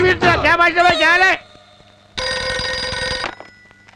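A telephone gives one steady, bright electronic ring lasting about a second, right after a brief stretch of someone talking, in a quiet indoor scene.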